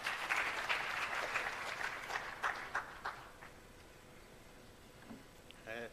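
An audience at a launch event for 4IR centres of excellence breaks into applause, clapping fading over the first three seconds and then dropping to quiet.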